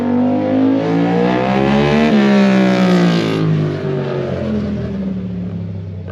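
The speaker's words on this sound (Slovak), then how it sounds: "Ten výfuk tam je počuť." A motorcycle engine runs steadily nearby and revs up, its pitch climbing and then easing back down while it keeps idling, exhaust audible, with no voices.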